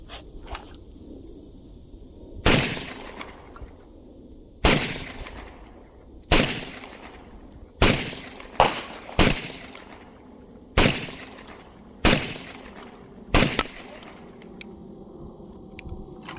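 A Beretta 1301 Tactical Mod 2 shotgun fires about nine loud, sharp blasts outdoors, spaced irregularly a second or two apart, each with a short decaying echo.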